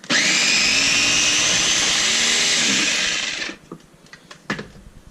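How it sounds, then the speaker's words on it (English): A food processor whirring through a thick peanut hummus mixture, a loud, steady motor whine for about three and a half seconds before it winds down and stops, followed by a few quiet clicks and knocks. "hopefully that's just going to get the mixture going in the food processor so that it can get closer to smooth"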